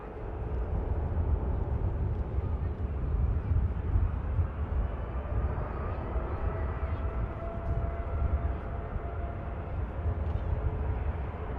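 A TUI Boeing Dreamliner rolls down the runway at Manchester Airport on takeoff toward Cancun, a steady broad jet roar holding at moderate distance throughout with no one talking.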